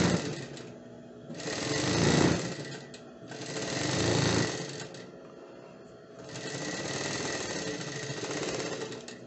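Domestic sewing machine stitching fabric for a child's romper, running in three close bursts of rapid mechanical whirring and needle chatter, each swelling and easing, with brief pauses between.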